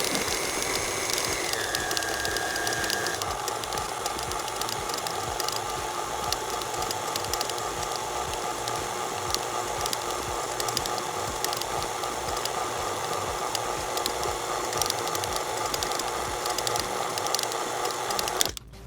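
A stand mixer churns cake into crumbs with a continuous motor whir and faint rattling of the beater in the bowl, steady and close for the whole stretch.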